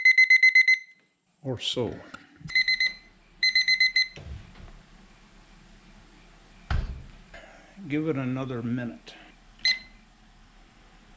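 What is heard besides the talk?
kitchen timers alarm beeping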